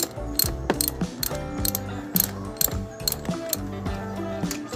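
A ratchet tightens a spark plug on a Mio Soul i 125 Fi motorcycle during a tune-up, giving close, loud bursts of rapid clicking in a steady back-and-forth rhythm with no talking.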